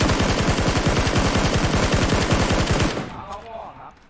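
SKS rifle fire in PUBG: a fast, loud, evenly spaced string of shots for about three seconds, then a sudden stop leaving faint ambience and a quiet tail.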